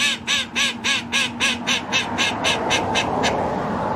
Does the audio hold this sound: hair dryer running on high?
no